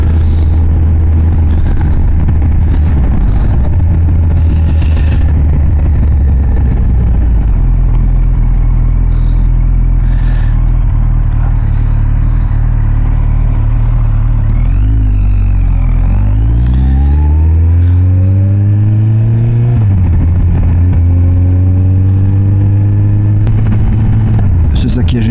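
A Kawasaki ZZR 1400 motorcycle cruises through its gears at low revs, a steady deep engine drone that rises in pitch, drops at each shift and climbs again, with wind rush throughout.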